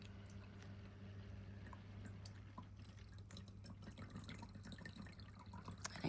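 A pet drinking fountain set beside a desk trickles quietly, a soft continuous drip and burble of water over a low steady hum, faint and close, with no talking.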